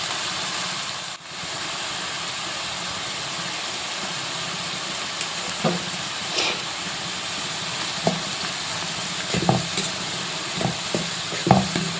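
Snake gourd pieces with salt and turmeric cook under a lid in a pan, giving a steady soft sizzle with occasional light knocks and stirring clinks, close and unbroken, with no voices.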